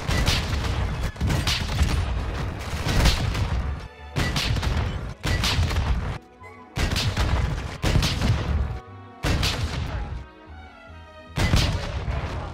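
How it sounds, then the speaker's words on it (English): Explosive rocket fire and blasts in the video game Warzone: a rapid series of loud, booming bursts separated by brief gaps, each dense and crashing, with clustered shots and a short lull near the end. "Bring the RPG back out and show them what you got."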